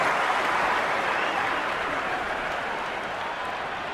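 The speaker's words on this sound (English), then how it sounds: "The crowd love that one." Crowd applause and cheering in a cricket video game after a boundary four, a broad steady roar that slowly fades.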